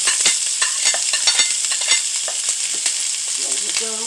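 Onion sautéing in a pan over high heat, a loud, dense crackling sizzle with rapid spattering pops throughout, no voices.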